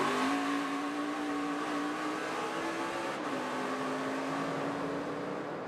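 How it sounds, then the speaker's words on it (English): NASCAR Nationwide Series race cars at the 2013 Kentucky 300 roar as they accelerate with wheel spin, a loud continuous engine drone that climbs steadily in pitch, briefly drops around a gear change, then rises again. "Sounded like he had a little wheel spin."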